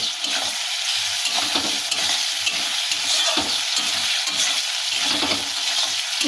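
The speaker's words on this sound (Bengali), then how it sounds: "ওর উপরে আমরা গোবিন্দভোগ চালটা যেটা ভিজিয়ে রেখেছিলাম সেটা দিয়ে দেবো দিয়ে আবারও একটু কষিয়ে নেব" Soaked Gobindobhog rice stir-fried in a hot pan, a loud continuous sizzle broken by rhythmic scraping strokes of the spatula, close up with no talking.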